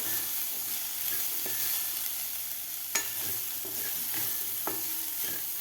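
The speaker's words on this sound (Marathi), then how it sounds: "आता आपल्याला हे 2 मिनिटं भाज्या व्यवस्थित परतून घ्यायच्या आहेत बटरमध्ये" Carrots, broccoli, corn and green beans are sautéed in butter in a pan over medium heat, a steady close sizzle with occasional soft clicks of stirring.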